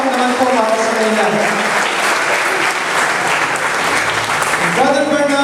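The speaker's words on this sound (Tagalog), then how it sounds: "Malakas na palakpak naman po para sa kanila." Loud, sustained applause from wedding guests greeting the newlyweds, a dense wash of clapping that fills the whole stretch while a voice speaks over it at the start and again near the end.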